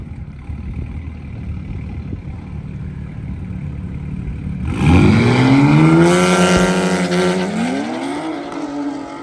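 Race cars on a track: a quiet stretch of distant engine noise gives way to a loud car roaring close past with rising, revving engine pitch that holds and then shifts as it drives on.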